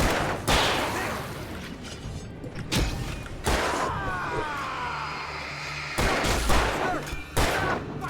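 Gunfire in the video game Alan Wake Remastered: loud, sharp shots ring out in irregular bursts, each followed by a short decaying tail over a constant background rumble.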